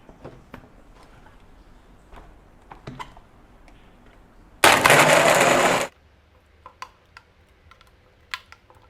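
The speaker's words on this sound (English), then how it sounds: "And we are ready to blend." A blender whirs through ice for an instant coffee frappe in a single loud, harsh burst of a little over a second, set between scattered light clicks and taps.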